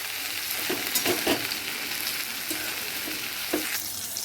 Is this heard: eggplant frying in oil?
yes